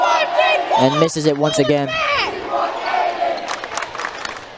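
Gym crowd at an Indiana high school boys basketball game between Center Grove and Jeffersonville, a steady roar of shouting and cheering under an announcer's play-by-play, with a brief burst of voices midway.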